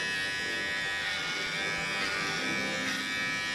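Electric hair clippers run steadily at home while someone's hair is cut, a constant close buzzing hum with no break for several seconds.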